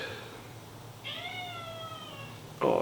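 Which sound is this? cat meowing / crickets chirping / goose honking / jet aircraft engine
cat meowing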